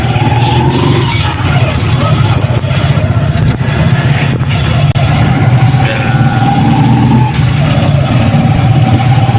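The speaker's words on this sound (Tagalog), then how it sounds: "So ngayon nandito kami sa tricycle." A motorized tricycle's engine drones loudly and continuously during a ride, a steady mid-pitched rumble close by that holds for several seconds.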